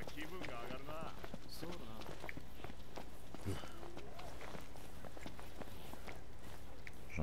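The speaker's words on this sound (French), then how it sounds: "J'entends des bruits de pas." Footsteps sound in the Final Fantasy XV Duscae episode as a rapid, rhythmic patter of clip-clopping steps, with a person talking throughout over the game audio.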